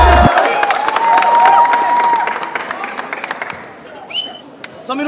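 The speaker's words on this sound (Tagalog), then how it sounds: "Mag-ingay para kay Papel. Palakpak ang kita" A crowd at a rap battle cheers and claps loudly, with whistles and shouts, the applause fading and thinning toward the end while a few scattered claps and voices remain.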